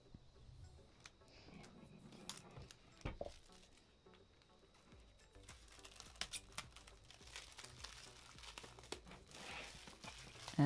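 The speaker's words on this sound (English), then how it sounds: "So first, I'm going to peel the tab." Plastic shrink wrap is peeled and torn off an iPad Air 4 box, with close, soft crinkling and crackling in irregular bursts that grow busier toward the end.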